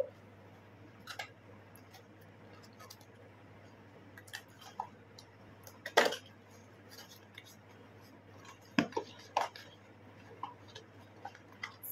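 A cosmetics package holding a waterproof CC cream foundation and a beauty blender is unboxed and opened, giving scattered close clicks, taps, and plastic rustles, with a couple of sharper snaps, over a steady low hum.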